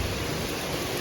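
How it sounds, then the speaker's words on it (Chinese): Rain pouring down in a sudden heavy rainstorm, a dense, even roar of falling water that fills the brief moment with no pauses and no voices. "忽然一场狂风暴雨"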